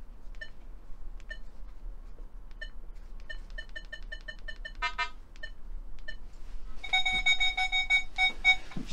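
A Nokta Legend metal detector sweeping a field gives repeated short beeps, then a louder, sustained warbling tone as it rings up on a target near the end, with no talking.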